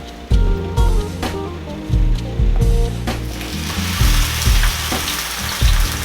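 A birria taco fries on a griddle with a steady crackling sizzle, interrupted by repeated loud bumps and scrapes as it is handled, with no talk.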